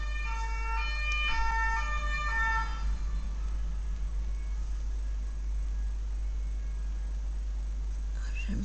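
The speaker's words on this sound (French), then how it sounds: "J'aime pas entendre l'ambulance." Ambulance siren wailing in a rising and falling pattern, clear for the first few seconds, then fading as the vehicle moves away over a steady low background hum.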